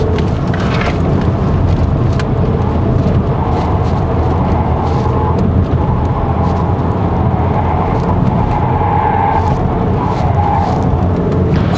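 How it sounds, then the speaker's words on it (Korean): Cabin noise in the rear seat of a 2023 Volkswagen Tiguan Allspace 2.0 TSI on the move, a loud, steady low roar of tyre and road noise rising from the rear wheel wells, unbroken and without talking. "뒷바퀴 그쪽에서 이제 올라오는 소음이 좀 더 크죠."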